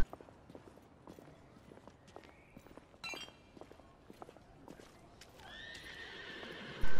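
Horse neighing with clip-clopping hooves in the video game The Order: 1886, a whinny and steady hoof steps amid ambient game sound, with a louder burst at the end.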